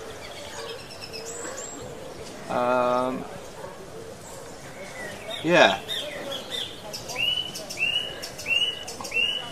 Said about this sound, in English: we've got a flock of birds in the sky.